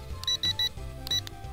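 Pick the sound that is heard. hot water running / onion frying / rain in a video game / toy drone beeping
toy drone beeping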